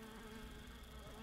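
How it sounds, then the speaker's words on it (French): A fly buzzing in the Grounded video game, a faint, steady insect drone that runs unbroken through the whole short stretch, with no talking. "le bzz-bzz, c'est un peu chiant, j'avoue"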